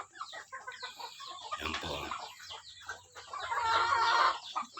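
Hens cluck and a rooster crows close by in a small backyard coop, a busy, continuous barnyard chatter with a brief spoken word in Tagalog.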